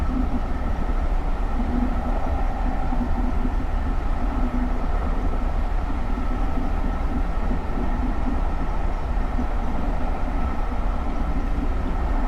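A GE Silverliner IV SEPTA commuter train in Train Simulator 2019 runs steadily along the Trenton Line, a continuous low rumble and rolling hum with faint higher whine, loud and unbroken throughout.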